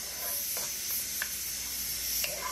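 Bell pepper and celery sizzle softly in a little oil for a sofrito, a quiet steady frying hiss with a few faint stirring clicks.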